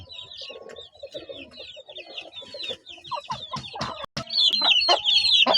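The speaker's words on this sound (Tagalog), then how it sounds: "Yung inahin Gilmore." A hen clucks low and steadily while chicks cheep in high, rapid peeps around her, the chirping growing busier and louder toward the end.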